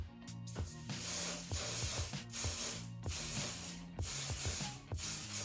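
Clipper care spray applied to a barber clipper in a series of sharp hissing bursts, about five close sprays separated by brief pauses, with no talking.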